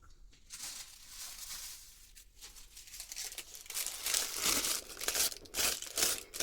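Tissue paper is scrunched close up, giving a steady stretch of crinkling and rustling that grows louder and more busy toward the end, with no talking.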